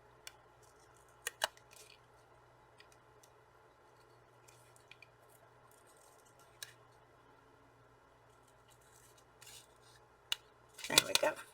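Scissors fussy-cutting a shape from paper card give sparse, faint snips close by, with a quiet background and a louder cluster of crisp cuts at the end.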